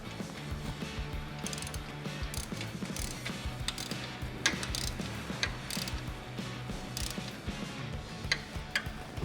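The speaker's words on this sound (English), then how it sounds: "we're gonna take an 18mm socket, tighten up the bottom bolt" Steady clicking of a ratchet turning an 18mm socket as it tightens the lower bolt of a suspension link on a 2018 Jeep Wrangler JL during a Rough Country 2.5-inch lift install, fast continuous ticks close up.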